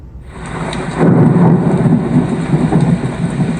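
Loud, deep thunder rolls through a thunderstorm, the rumble swelling sharply about a second in and holding as a sustained, heavy roar with no voices.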